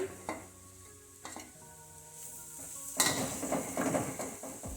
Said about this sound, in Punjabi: ਆਲੂ ਪਾ ਕੇ ਆਪਾਂ ਮਿਕਸ ਕਰ ਦਵਾਂਗੇ